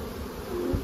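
Steady, close buzzing of many bees at a beehive, a continuous low hum that swells slightly toward the end, heard alone with no voices.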